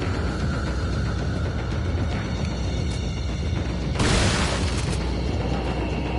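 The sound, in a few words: explosion in the video game Resident Evil 4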